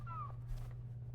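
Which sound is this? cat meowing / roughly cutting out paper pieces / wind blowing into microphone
cat meowing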